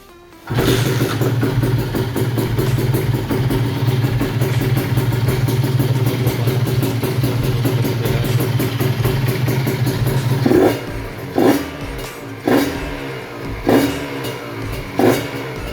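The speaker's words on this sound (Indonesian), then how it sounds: "kita dengerin suara mesin dan knalpotnya" Modified 2011 Kawasaki Ninja RR SE motorcycle with aftermarket exhaust idling with a steady, buzzy two-stroke drone, then blipped in several sharp revs near the end, each rising and falling quickly.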